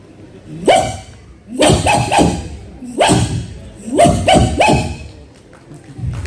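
A man mimics a dog barking on stage, several short loud woofs in quick bursts with brief pauses between them, close to the listener.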